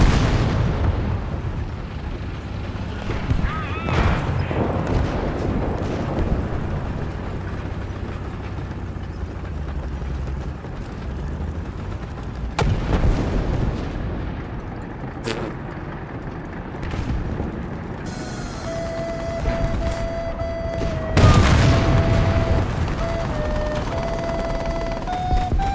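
Explosions in a naval battle video game, with repeated deep booming blasts and rumbling detonations over a constant roar of combat. Sharp bursts stand out among them and a big loud blast comes near the end.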